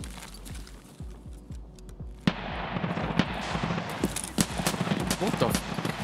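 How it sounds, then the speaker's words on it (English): Gunfire in a first-person video game goes off behind the players, a run of sharp cracks and rapid bursts that grows louder and denser after a sudden blast partway through, with other game sounds layered underneath. "Someone's shooting behind us."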